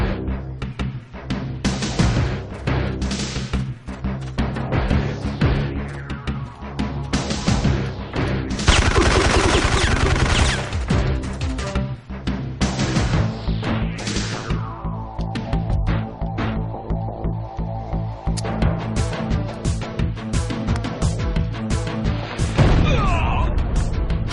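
Gunfire and a grenade blast in a French-language shooter mission game, with dense, loud bursts of shots and crashing impacts running throughout alongside a thick background score.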